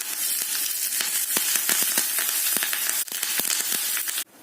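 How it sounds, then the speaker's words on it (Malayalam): Curry leaves crackle and sizzle in hot oil for peanut chutney tempering, a close, dense hiss with sharp pops scattered throughout, ending abruptly. "അതിനോടൊപ്പം തന്നെ കറിവേപ്പിലയും കൂടെ ചേർത്ത് കൊടുക്കാം."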